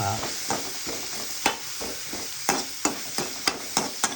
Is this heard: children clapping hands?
no